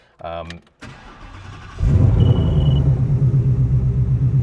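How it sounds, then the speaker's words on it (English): A 1967 Ford Mustang Fastback engine, heard from inside the cabin, cranks briefly and catches, then settles into a deep, rumbling idle, heard close up after a couple of short clicks and chimes. "I'm just going to turn the engine on just so you can kind of hear what it sounds like"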